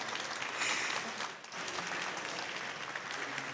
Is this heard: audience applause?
yes